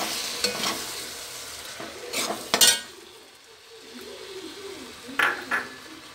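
A spoon stirs clam pickle with vinegar in a pan, giving a few scraping, clinking strokes against the metal over a soft sizzle, with quieter gaps between stirs.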